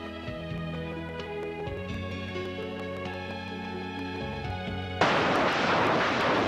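A BM-21 multiple rocket launcher fires a rocket salvo: a sudden loud, sustained roaring rush bursts in near the end, cutting over steady tonal music that plays alone beforehand.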